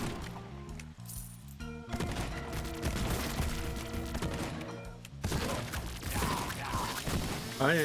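Gunfire from a pistol-style shotgun in the cartoony zombie video game Zombieville USA 3D, sounding as a dense run of cracks and blasts over a busy game music backdrop, loud and continuous throughout.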